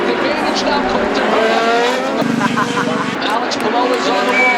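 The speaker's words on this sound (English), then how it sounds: "Alex Palou has taken the lead in turn number 1. A Ford car with the advantage now." IndyCar race cars, a Ford-powered car among them, roar around Road America's road course, with a sustained engine drone and shifting pitch under continuous race commentary.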